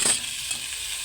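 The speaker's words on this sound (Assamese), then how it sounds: "সেইকাৰণে বনৰীয়া কচুগুটি আৰু মাছ নহৰু দি ভাজিছোঁ" Wild taro and fish fry with garlic in a hot pan, a brief close hiss and sizzle, briefly stirred at the start, then steady crackling for about a second.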